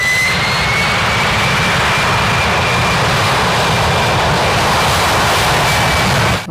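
Loud, steady jet-engine roar from a toy airplane, a continuous whoosh with a faint high whine running through it and no talking.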